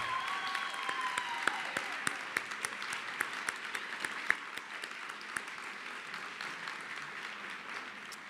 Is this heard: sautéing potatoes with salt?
no